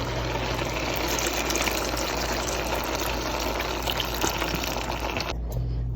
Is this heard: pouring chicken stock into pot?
yes